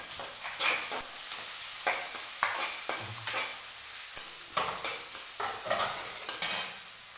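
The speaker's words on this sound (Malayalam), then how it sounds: "പച്ചമുളക്, ഇഞ്ചി ഇതെല്ലാം ഒന്നായിട്ട് ഇട്ട്, ഇനിയുള്ളത് കരിവേപ്പിൻ്റെ ഇല. അതെല്ലാം ഇട്ട ശേഷം നല്ലപോലെ ഇളക്കിയ ശേഷം" Green chillies, ginger and curry leaves sizzle in hot oil in a pan while a spoon stirs them, with a steady fry under a string of close, quick scraping strokes.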